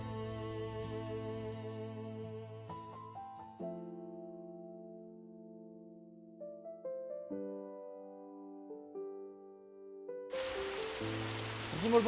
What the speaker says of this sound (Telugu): వర్షం పడిపోతుంది బాబోయ్